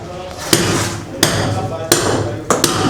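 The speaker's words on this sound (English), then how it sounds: "These guys are hammering it in." Workers at a construction site strike with a hammer, four loud, sharp blows spaced roughly every two-thirds of a second against a steady background hum.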